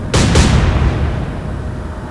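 Naval guns firing in Atlantic Fleet, two heavy booms in quick succession, loud and close, followed by a long rumbling decay with no talk.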